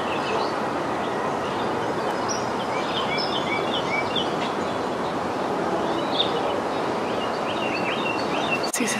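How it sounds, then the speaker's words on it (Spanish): Several birds call and chirp outdoors in a quiet residential setting, short scattered notes over a soft steady background hiss, moderately distant and without any talk. "se oye mucho pájaro"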